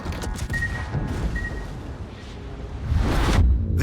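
A warship detonates in World of Warships, a deep rumbling boom and roar that swells toward the end over ongoing naval battle noise, with no voices.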